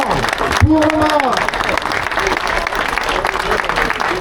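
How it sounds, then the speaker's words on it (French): Crowd at a Salers cattle show clapping for Romain, a steady wash of applause under a loudspeaker announcer's voice, with a brief tonal sweep near the start. "Applaudissements pour Romain."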